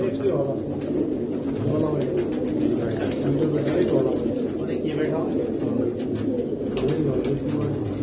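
White pigeons on a rooftop coo steadily in low, rolling calls, close by, over a constant background hum with some voices mixed in.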